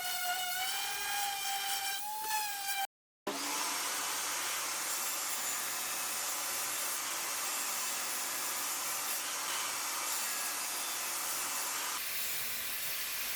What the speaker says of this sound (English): it was a matter of trimming these down on this and then getting the sander on them to tidy them up a bit